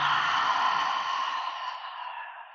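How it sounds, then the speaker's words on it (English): A long, loud exhale through the mouth during yoga breathing, a breathy rush of air heard close up and alone that slowly fades away. "Nice and loud and audible exhale."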